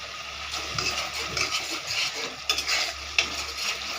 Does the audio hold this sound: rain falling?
no